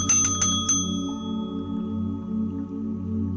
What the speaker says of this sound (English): now it's time to ring the bell.